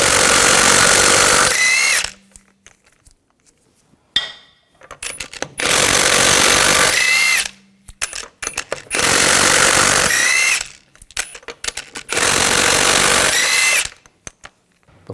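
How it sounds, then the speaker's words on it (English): A power tool with a 19mm socket removes the lug bolts from the front wheel of a 2000-2006 BMW X5, sounding as four loud, close whirring and rattling bursts of about two seconds each, separated by pauses with small clanks and handling noises. "take these lug bolts out."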